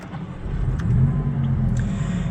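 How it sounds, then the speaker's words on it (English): A 2022 Maserati MC20's twin-turbo V6 rumbles steadily at idle, a low, continuous drone with slight revving swells and a few faint clicks. "We'll go ahead and fire up that twin-turbocharged V6."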